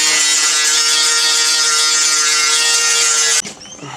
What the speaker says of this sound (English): I'm just going to grind it back and see how it looks.